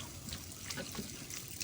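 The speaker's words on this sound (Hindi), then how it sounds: "गर्म पानी में इसको डबो के धो रही हूँ ताकि इसके जो कीड़े मकोड़े हैं वो सारे ही निकल जाएं।" Radish leaves are dunked and washed in hot water, giving a steady running, splashing wash with small drips and sloshes throughout, no voices.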